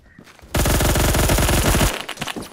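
Loud, close burst of rapid automatic fire from an M231 in the Phantom Forces video game, about one and a half seconds of steady rattling shots before it cuts off.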